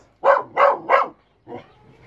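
A village dog barks three times in quick succession, then gives a softer fourth bark after a short pause, close and clear with no other sounds.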